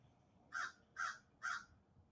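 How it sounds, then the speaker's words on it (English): A crow caws three times in an even rhythm, each harsh call clear and fairly close over a quiet background. "You hear that crow?"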